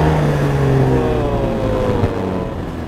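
A Yamaha Aerox 155 scooter engine revs on the throttle, a loud close drone with rising and falling pitch and a steady buzzy hum, heard alone without voices.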